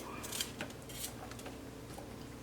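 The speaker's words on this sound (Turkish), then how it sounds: "Kuşkonmazlarımın da şöyle sert yerlerini alıp 2-3 parçaya doğruyorum." Asparagus stalks having their tough ends cut into two or three pieces with a knife, a few short close crisp snaps and clicks over a steady low kitchen hum, no talking.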